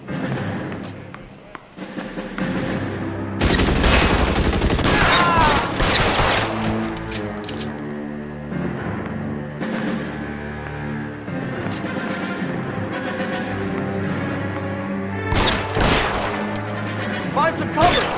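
A shootout in the game L.A. Noire: dense bursts of gunfire and heavy thuds crash in twice, loud and close, between stretches of tense music, with voices now and then.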